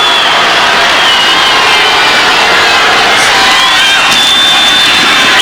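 A large crowd at the 1996 Michigan high school Class B football final rises and roars, a dense continuous wall of cheering and noise sustained loudly throughout.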